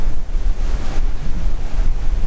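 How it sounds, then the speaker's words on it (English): Sea waves surge and break on the Causeway Coast as sea spray blows through on a summer morning, a loud, continuous roar heavily buffeted by wind on the microphone. "it is actually a little bit of drama with that sea spray and stuff coming through now"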